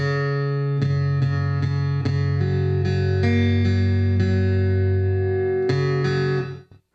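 Strummed acoustic guitar chords ring out through a Hartke AC150 acoustic ribbon amplifier, sustained and full, with a few strums before fading to silence.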